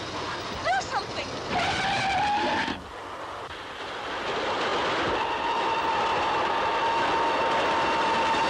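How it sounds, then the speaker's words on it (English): A train in a 1936 film races toward a crossing and wrecks, giving a loud rushing roar with whistle-like tones that cuts off abruptly near the three-second mark, then swells again into a sustained rumble carrying a steady high whistle. "Yes, but it's right across the track. What? Yes, look. The train."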